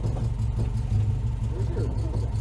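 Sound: Honda Civic engine revving with e-brake on

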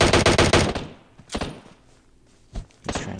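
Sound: gunfire in video game PUBG

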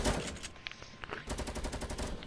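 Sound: LMG machine gun fire in Fortnite video game

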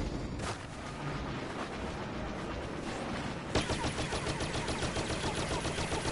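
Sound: ion shot weapon firing in a Star Wars video game

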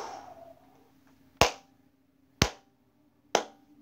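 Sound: clapping

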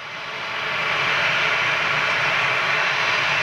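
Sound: Ryanair Boeing 737 jet taking off at Manchester

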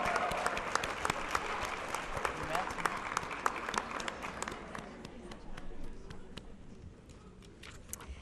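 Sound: audience applause for science fair winners

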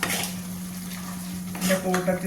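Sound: stirring beetroot and onion pickle in a pan

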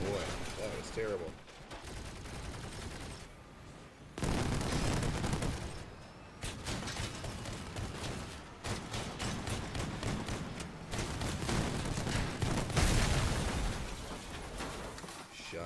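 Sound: shotgun fire in a video game

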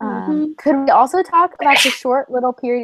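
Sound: sneeze

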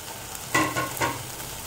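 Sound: frying ginger garlic paste in a pan

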